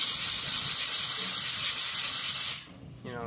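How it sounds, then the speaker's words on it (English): A steam cleaner used for car interior upholstery detailing gives a loud, steady close hiss that drops away near the end, followed by a quieter softer hiss. "wrap up the steamer in the microfiber towel and go right through it"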